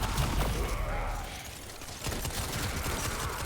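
The Steflos weapon firing in Warframe, lobbing explosive flower-like projectiles with a heavy recoil, a steady spray of shots and bursts, near and fairly loud.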